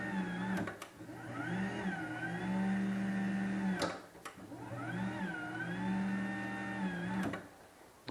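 A LiftMaster/Chamberlain garage door opener fitted with a SPEEDGEAR X2 overdrive gear runs in two loud cycles, a steady motor whine rising and falling in pitch with clunks at each start and stop, close and continuous.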